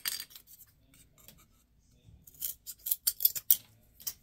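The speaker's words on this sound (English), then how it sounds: "Then you'll go ahead and cut the popsicle stick." A wooden popsicle stick is being cut: a few faint snips at first, then a quick run of crisp, sharp clicks and cracks, close up and fairly quiet, with no voices.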